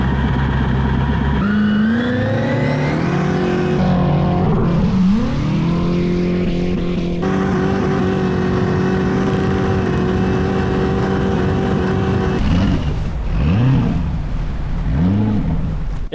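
A turbocharged LS V8 jet ski engine roars continuously on a speed run, its pitch climbing through long pulls, dipping briefly, then surging again with wavering revs near the end.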